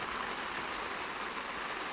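Rain pours steadily onto an open field in Pornichet, a constant, close, broadband patter and hiss with no breaks and no talking.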